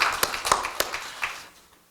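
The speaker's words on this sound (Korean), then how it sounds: "이럴 때 한번 박수 한번 치실까요?" A church congregation claps briefly during a Sunday morning service: a handful of sharp, scattered claps close together that thin out and fade within two seconds.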